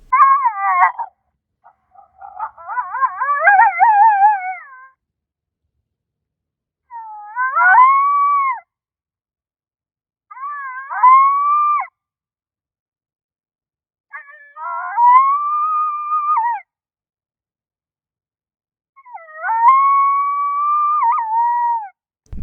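An electronic predator caller plays a Lonesome Female coyote howl, five or six separate wavering, rising and falling howls with short silences between them, loud and clear with nothing else behind them.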